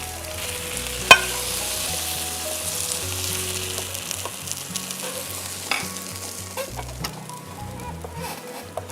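Chicken manchurian frying and being stirred in a pan gives a steady, close sizzle under scraping and clattering spoon strokes, with one sharp knock early on and no voices.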